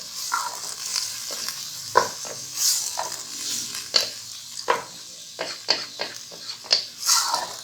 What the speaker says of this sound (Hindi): ये दाल इसमें ऐड कर देनी है। इसको थोड़ा सा भूनना है।